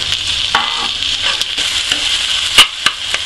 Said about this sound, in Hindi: अब मैं इसमें कटे हुए टमाटर डालेंगे।